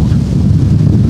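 Wind buffets the microphone on an exposed lookout with a view toward the Danube, a loud, low, rumbling roar that carries on throughout with no speech.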